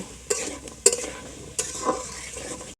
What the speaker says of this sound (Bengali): এবার আলুটা একটু নেড়ে চেড়ে ভেজে নেব